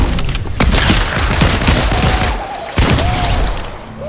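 Gunfire from a gun in the video game Fortnite, loud rapid shots in a dense burst, a brief pause and then a second burst, with no talk over it.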